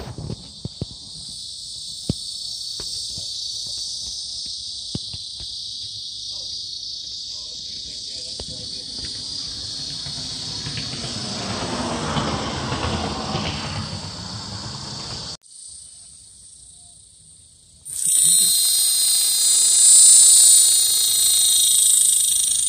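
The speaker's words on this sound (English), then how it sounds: "Those are cicadas." Cicadas drone loudly and continuously with a dense, high buzzing near a roadside mineral and gem shop in Tucson; the sound fades briefly, then returns even louder and harsher.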